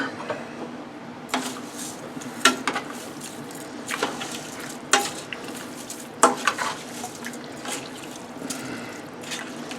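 A spoon stirs a pot of Louisiana Creole-style jambalaya with wet sloshing and repeated clanks and scrapes against the metal sides, coming in irregular bursts of knocks that are close and clear.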